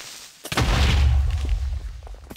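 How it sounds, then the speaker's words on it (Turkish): A sharp, booming explosion of a Minecraft Creeper in a video game bursts out loud and close, then decays into a rumbling, crackling tail. "Patlayan Creeper."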